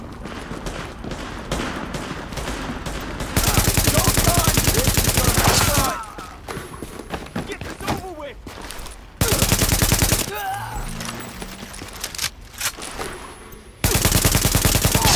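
Sustained automatic gunfire in Tom Clancy's The Division, long dense bursts alternating with quieter stretches of scattered shots and combat noise, loud and close.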